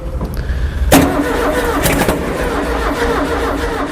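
A newly built fuel-injected car engine cranks and fires up close by, catching with a sharp burst and settling into a steady running rumble, with a second surge shortly after.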